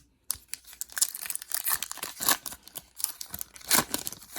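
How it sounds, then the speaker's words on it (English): A 2021 Donruss football hobby card pack being ripped open by hand, with sharp foil tearing and crinkling bursts in quick irregular spurts, close and crisp after a brief silent start. "These packs are ripping really easy."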